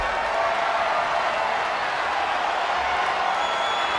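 A virtual arena crowd in the wrestling game WWE 2K25 roars in a steady, dense wash of cheering that holds at an even level throughout, with no clear peaks or pauses.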